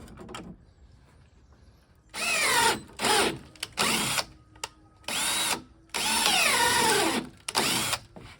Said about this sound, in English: I need to drill a hole so that can catch onto something.